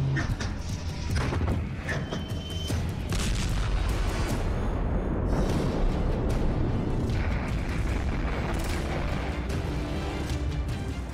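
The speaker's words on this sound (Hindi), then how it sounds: "मिसाइल फायर हुई" Missile launch in the Russia-Ukraine war, a loud sustained roaring rumble with booming blasts, dense and continuous throughout, with no speech over it.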